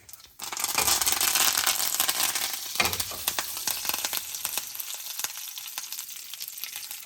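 Curry leaves sizzle hard in hot tadka oil, a loud continuous crackling fry with sharp spits that gradually eases off toward the end.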